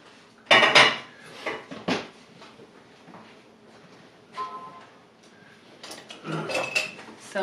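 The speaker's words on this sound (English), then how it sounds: "I'm just gonna use my spatula and cut this into two" A spatula scrapes and clanks against a bowl or pan while cutting bread dough in two, in several loud, close metallic knocks and scrapes separated by quieter pauses, with no one talking.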